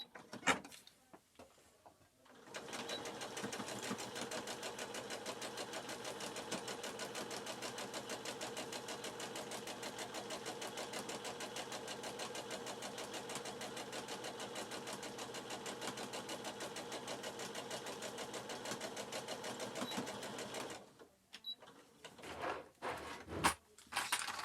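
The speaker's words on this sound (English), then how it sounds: "And then you stitch about 1 centimetre in from the edge." A sewing machine runs steadily for about eighteen seconds, stitching a seam on a fabric face mask, with a fast even motor whir and needle clatter, preceded and followed by brief handling noises.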